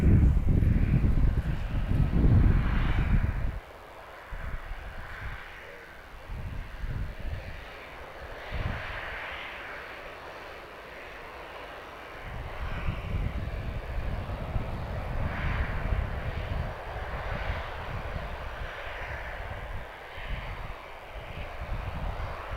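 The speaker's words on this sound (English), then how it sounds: "We do have a TUI 737 on approach." A TUI Boeing 737 on approach rumbles overhead, a broad roar loud at first, then a sudden drop to a steadier distant drone with gusty wind noise across the microphone.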